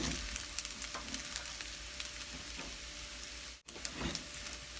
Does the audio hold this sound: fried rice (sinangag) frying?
yes